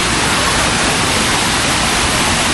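A waterfall near Chennai roars as a dense, steady rush of water, loud and close, filling the whole moment without a break.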